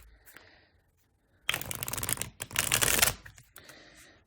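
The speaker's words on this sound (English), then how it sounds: "Let's do another shuffle to get those cards shuffled." A deck of tarot cards is riffle-shuffled up close, giving a dense, crisp fluttering burst that pauses briefly and then resumes, with quiet handling before and after.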